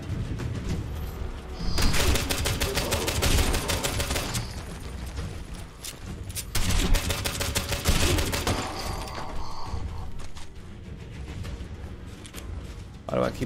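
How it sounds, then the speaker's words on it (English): Gunfire rattles through a Fallout 76 game session in dense, repeated bursts, with the heaviest volleys at about two and about seven seconds over a steady, busy backdrop. "Who the fuck just shot me?"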